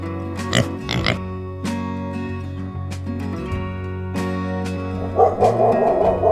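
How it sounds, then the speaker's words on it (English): A dog gives a few sharp barks, a quick pair early on and another burst near the end, over soft background music. "Dog bark."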